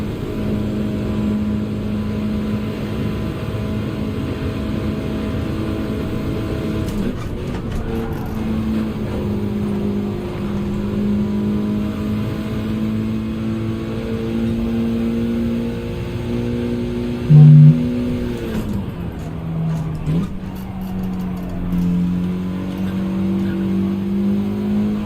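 Race car engines in the Gran Turismo 7 video game drone steadily throughout, rising in pitch as they accelerate, dropping back when shifting, then climbing again, fairly loud and continuous with no talking.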